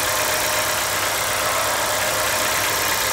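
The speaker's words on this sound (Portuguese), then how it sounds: "A única coisa que dá para ouvir é os injetores pulsando." A GM Corsa engine idles steadily with the hood open after a service, a fine rapid ticking of its fuel injectors pulsing over the even drone, close and continuous with no talk.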